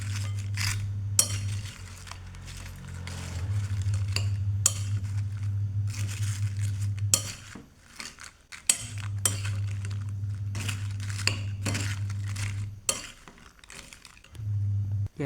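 A spoon clinks and scrapes against a bowl while snack ingredients are stirred together, a rapid run of close metallic taps and rattles over a steady low hum that cuts out briefly partway through.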